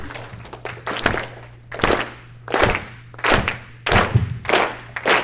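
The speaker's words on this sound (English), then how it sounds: "I want y'all to join me real quick with a quick slow clap" An audience doing a slow clap at a speaking event, loud unified claps landing in a slow, evenly spaced rhythm, each ringing in the room, with a low hum beneath and no talking.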